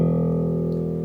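A keyboard's pick bass preset, shifted down in octave, holds a low E as one steady, buzzy, sustained note with a plucked edge, played alone with no other sounds.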